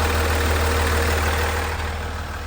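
A truck engine idles steadily while warming up on a cool morning, a close, continuous low rumble with no voices over it.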